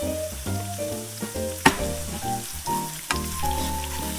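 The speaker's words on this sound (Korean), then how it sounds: "이거 최대한 약불로 하시고, 이거 올리브유니까 살짝만 볶아주세요." Olive oil sizzles and fries over low heat as food is stir-fried in a pan, a steady close sizzle with a couple of sharp spatula clacks against the pan.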